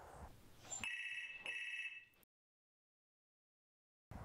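A telephone bell rings in two short, shrill bursts, then stops into silence. A faint sound returns at the very end.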